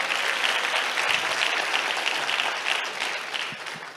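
A congregation at a church service gives a dense, sustained round of applause, many hands clapping steadily and loudly without pause.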